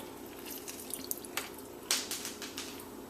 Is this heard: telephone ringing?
no